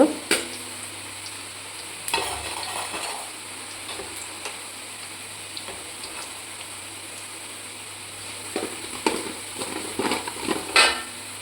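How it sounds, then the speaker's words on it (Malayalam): Crushed ginger and garlic fry in hot oil with popped mustard seeds for beef pickle, a continuous soft sizzle with intermittent scraping stirs and light ticking spatters, no voices. "അപ്പോൾ നമുക്ക് ഇഞ്ചിയും വെളുത്തുള്ളിയും ചതച്ച് വെച്ചത് ഇട്ട് കൊടുക്കാം."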